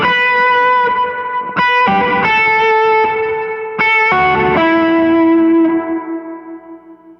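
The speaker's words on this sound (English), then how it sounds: "all of the reverb is getting distorted" A clean guitar drenched in cave-like reverb runs through a distortion pedal, sustained chords ringing loud and messy with smeared, clashing tails, changing several times before fading out alone.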